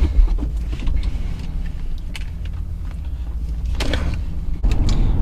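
BMW car driving with the fuel gauge at zero miles to empty, a steady low cabin rumble with a few soft clicks and creaks inside the car, continuous and fairly even, no talk.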